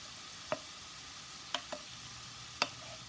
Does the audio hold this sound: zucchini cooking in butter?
yes